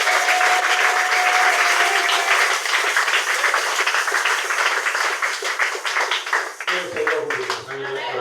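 A church congregation applauds, dense sustained clapping from many hands filling the space, loud and steady before tapering near the end.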